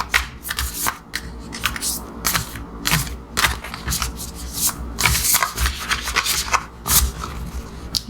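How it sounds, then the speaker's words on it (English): Tarot cards shuffled by hand in a steady run of close, crisp riffling and rubbing bursts, with short pauses between passes and no talking. "I am going to shuffle these one more time and then split them."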